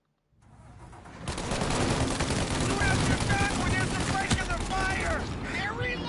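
After a brief silence and a rising rumble, heavy gunfire erupts in a Mafia Definitive Edition shootout, continuous machine-gun bursts and overlapping shots that stay loud and dense, with mechanical clatter and muffled voices mixed in.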